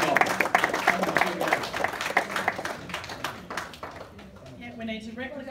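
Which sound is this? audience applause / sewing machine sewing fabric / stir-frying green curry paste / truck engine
audience applause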